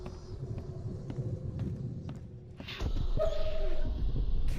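In The Sinking City video game, a dog whimpers and yips in short, thin cries over a low rumbling backdrop, fairly close, with a deeper rumble swelling in partway through.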